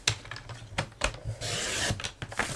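A paper trimmer cuts a paper piece for a chunky notebook, with a few close taps and clicks followed by a short scraping slide of the blade, then more light clicks, and no voices.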